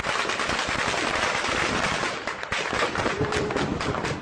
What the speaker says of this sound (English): gunfire rings out, despite a ceasefire.